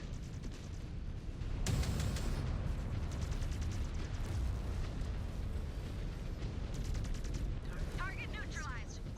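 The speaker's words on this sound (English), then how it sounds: "Yep, we got artillery everywhere." Artillery shells bursting across a MechWarrior 5 Clans battlefield, a sustained rumbling barrage of muffled blasts and crackles at moderate loudness, with one sharper impact early and a voice briefly heard.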